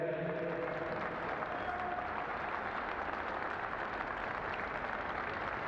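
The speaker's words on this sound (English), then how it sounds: "now we'd like a big round of applause for both squads for a great game today" Applause for both football squads after an under-15 schools' cup final between Swansea and Wirral, a fairly quiet, steady patter of clapping that holds evenly for several seconds with a faint sustained tone underneath.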